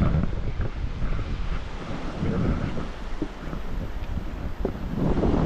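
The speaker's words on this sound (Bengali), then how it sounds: "ঠান্ডা হাওয়া বইছে।" Cold wind blows steadily on a high mountain trek near Gorkhay, roughly 11 to 12 degrees, as a continuous broadband rush with gusty swells, buffeting the microphone close up throughout.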